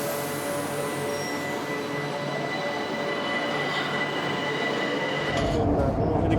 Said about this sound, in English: Back to the city centre with the brand new metro line number 1 towards Imam Khomeini Square